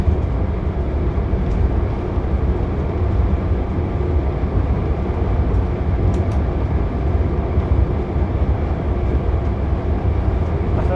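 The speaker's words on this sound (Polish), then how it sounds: "Mówiłem, jest w górkę, lokomotywa, skład traci lekko na prędkości." Diesel locomotive hauling a train uphill, heard from the cab: a steady, loud low-frequency rumble and drone of engine and rolling wheels throughout, with no talking.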